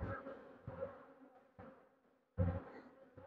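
Honey bees buzzing at a hive during varroa treatment with amitraz, a close dense droning hum that swells and fades in several loud bursts.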